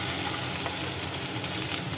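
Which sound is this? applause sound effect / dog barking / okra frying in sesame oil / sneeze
okra frying in sesame oil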